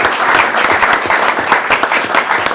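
Steady applause for a state champion school team at a board of education meeting, a crowd clapping continuously and fairly close throughout.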